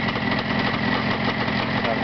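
A motor with a semi-automatic clutch idles steadily nearby, its even, continuous rumble holding at a constant level throughout.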